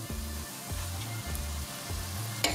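Spinach sizzles steadily while it is sautéed in a pot over medium heat. The close, continuous frying hiss carries a rhythmic low thump every half second or so, and a brief sharper clatter comes near the end.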